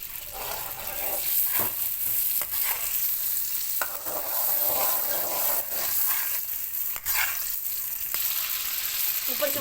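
Mutton pieces frying and being stirred in a pot for namkeen gosht shinwari, a steady close sizzle with repeated scraping strokes of a spoon throughout.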